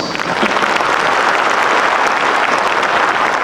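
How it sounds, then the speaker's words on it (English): A concert audience in a large cultural hall breaks into sustained, dense applause, loud and even throughout with no speech on top. "So shall we give a big clap to ourselves?"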